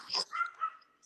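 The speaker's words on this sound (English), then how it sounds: "The puppies are getting rambunctious." Puppies yip and whimper close by in a short burst, a few high squeaky cries in quick succession during a casual indoor livestream.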